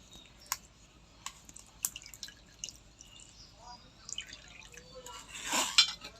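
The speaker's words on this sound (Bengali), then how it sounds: "ছানাটা এভাবে চাপতে চাপতে ছানা জলটা বের করে নেবেন" Whey drips from pressed chhena through a strainer in a few distinct, well-spaced drops, then a brief wetter squishing rush as the curds are squeezed.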